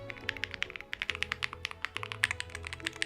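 Rapid typing on a Neo custom mechanical keyboard, a dense run of crisp, close keystrokes with a few brief pauses, alone with no talk.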